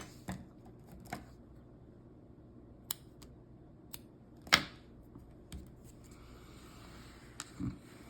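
Scissors snip through the tail of crochet yarn on a tissue box cover, a few sharp separate clicks spread over quiet moments with faint background noise and no talking.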